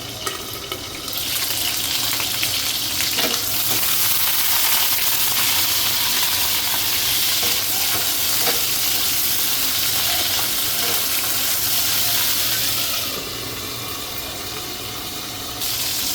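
Ivy gourd pieces fry in oil inside a covered pan, giving a steady, close hiss with faint crackles and a few light clinks, easing slightly near the end; no voices.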